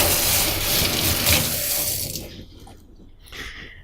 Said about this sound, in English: When you go to rinse your pieces off, all you need to do is get them damp